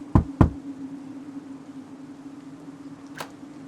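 Two sharp knocks on a house door land in quick succession, followed by a steady low hum and one fainter knock later, with no talking.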